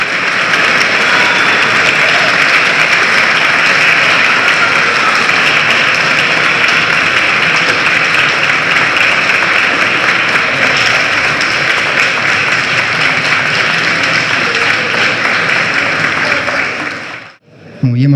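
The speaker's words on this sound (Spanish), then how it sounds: "Muchas felicidades y fuerte el aplauso que se escuche." Sustained audience applause at an arts award ceremony, loud and dense throughout, steady clapping from a large crowd that cuts off abruptly near the end.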